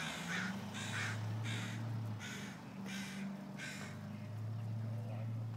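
A crow caws six times in a steady, evenly spaced series, set against a low, constant hum.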